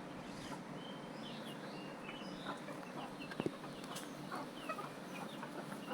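A couple of backyard chickens cluck softly at daybreak, a faint scatter of short calls against a quiet rural background, with one brief louder knock midway.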